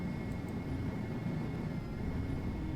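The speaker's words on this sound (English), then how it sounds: "Oh, that's a helicopter." A steady droning engine roar from a helicopter in the flight simulator X-Plane 11, constant and fairly loud with no talk over it.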